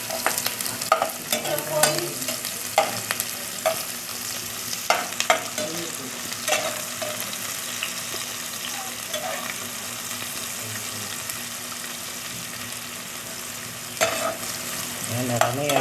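Garlic and onion sauté in hot oil for native chicken tinola in coconut milk, a steady close sizzle broken by scraping stirs and occasional clinks of a utensil against the pan, with no talking.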